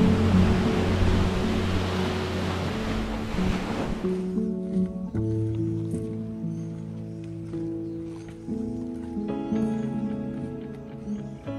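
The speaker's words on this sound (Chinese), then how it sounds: "空气中还会飘来浪花拍打岸边时溅起的海水" Sea waves break on a coral reef shore at Xiaoliuqiu island, a loud rushing surf for the first few seconds before fading beneath music.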